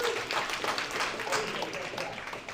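Audience applause at a tech demo night, a steady wash of many hands clapping that fills the whole stretch at moderate level with no pauses.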